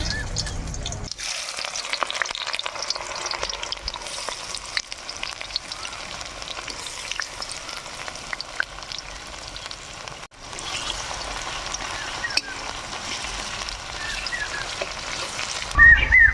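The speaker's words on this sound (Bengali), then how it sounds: "আমরা পেঁয়াজগুলো লাল লাল করে ভাজি নেব" Chopped onions frying in hot oil with bay leaves and whole garam masala, a loud continuous sizzle with stirring scrapes throughout, briefly broken by short edits, no talking.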